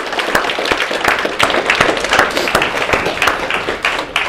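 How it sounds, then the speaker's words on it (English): Audience at a mental illness conference breaks into dense, sustained applause, many hands clapping steadily and fairly loud throughout, with a few sharper individual claps standing out. "You want to give Matt a round of applause just for having the courage."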